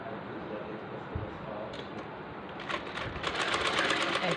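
A sewing machine stitches the neckline of a one-year-old baby girl's kameez, running steadily throughout and building slightly louder near the end, with no talk over it.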